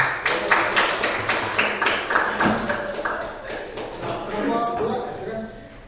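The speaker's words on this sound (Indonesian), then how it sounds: "tepuk tangan" A classroom audience at a student group presentation claps in a quick, regular rhythm, moderately loud and close, sustained across the moment before the presenters begin.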